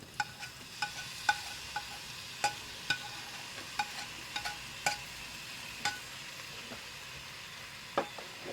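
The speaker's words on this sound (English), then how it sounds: "So now I'm going to add the garlic, ginger and the green chilies." Grated garlic, grated ginger and green chilies sizzling in a JML multi cooker for a lamb curry, with a steady low hiss broken by a series of sharp, irregular spatters and pops nearby.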